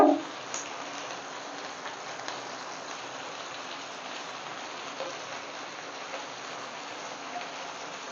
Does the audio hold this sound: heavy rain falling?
yes